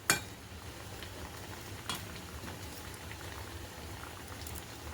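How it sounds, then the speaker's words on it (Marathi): Baby shrimp cutlets fry in a pan of oil, giving a faint, steady sizzle with a couple of soft clicks near the start and around two seconds, and no voices. "तर याला आपल्याला गोल्डन ब्राऊन होईपर्यंत फ्राय करायचं आहे."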